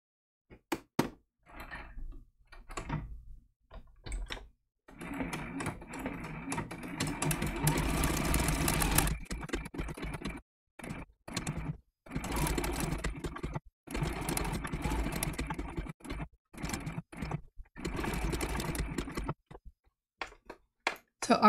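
A sewing machine runs in bursts of rapid mechanical stitching, stopping and starting repeatedly, with short pauses and small clicks between runs.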